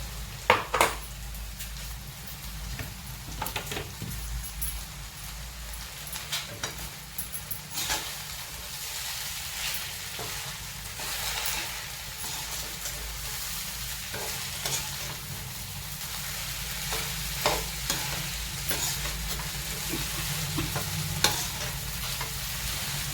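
Sabudana with crushed peanuts is sautéed and stirred in a pan, a steady low sizzle broken by repeated spoon scrapes and clinks against the pan over twenty-odd seconds, without speech.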